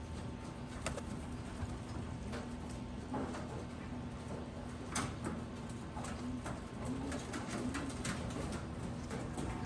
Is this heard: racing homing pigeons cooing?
yes